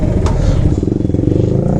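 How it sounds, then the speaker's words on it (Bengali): A motorcycle engine rumbles loudly and continuously in a heavy traffic jam on a crowded road, close by and steady over about two seconds. "ওই যে একটা বাইক আসতেছে"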